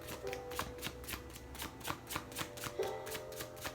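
Untamed Oracle cards being shuffled by hand, a quiet, close series of rapid riffling flutters and soft slaps in an uneven rhythm, with no talking.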